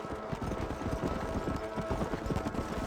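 Horse hooves gallop in Red Dead Redemption, a fast, steady clip-clop rhythm that stays close and loud throughout, with a faint game voice mixed underneath.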